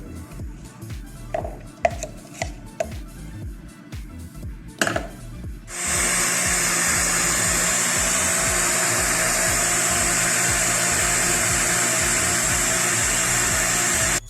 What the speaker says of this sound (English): Now that we're finished blending our mole mix